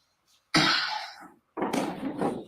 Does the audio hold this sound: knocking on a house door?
no